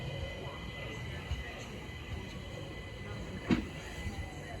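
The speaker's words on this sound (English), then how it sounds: "train now approaching platform 1 is the 1344 London Overground service to Hybri and Islington" A London Overground train sits at a platform at Sydenham station, its steady low rumble broken by a sharp clank near the end, while a public-address voice speaks over the noise.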